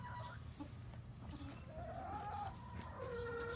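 Chickens in a zoo exhibit, a black Silkie among them, cluck and murmur in a soft, uneven stream with a couple of drawn-out calls, fairly quiet over a constant low background rumble.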